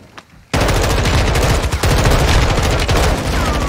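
Minigun in Modern Warfare 2 opens up after a brief quiet moment, then roars in a loud, continuous rapid-fire burst with dense mechanical rattle that keeps going to the end.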